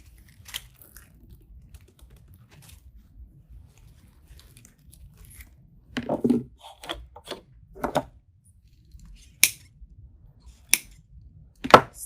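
Wire on a grapevine wreath is snipped with cutters, giving a few sharp, close clicks and snaps spaced out over quiet, with no one talking.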